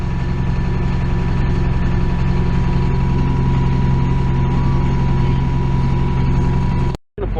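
A tractor engine runs during a corn harvest, giving a loud, steady, close diesel drone as it backs up, then cuts off abruptly near the end.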